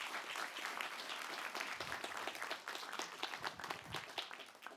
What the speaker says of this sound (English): So a quick round of applause for our Google crew.